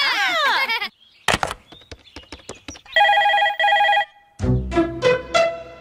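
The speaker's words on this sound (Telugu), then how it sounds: "రింగ్ అవుతుందిరా." A telephone rings in a domestic movie scene, a steady electronic trill lasting about a second, set among clattering knocks and a brief, loud burst near the end.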